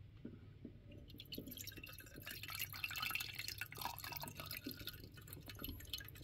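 Diesel fuel drips and trickles while a car's fuel filter is drained, a faint close patter of irregular drops against a quiet background.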